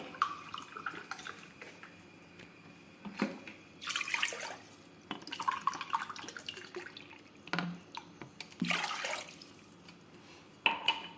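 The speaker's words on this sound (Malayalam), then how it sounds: "ഇപ്പം നമ്മൾ ഒരു പാത്രത്തിൽ 4 ഗ്ലാസ് വെള്ളം ഒഴിക്കുക" Four glasses of water poured into a cooking pot at a kitchen stove, heard as soft irregular splashes and trickles with occasional clinks of the vessel, faint and close, with no one talking.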